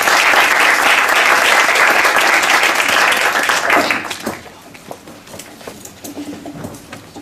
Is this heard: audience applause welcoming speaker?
yes